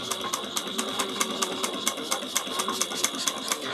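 Sewing machine stitching a clutch wallet from the inside at an eighth-inch seam: fast, even rhythmic needle clatter, close and loud, running without pause.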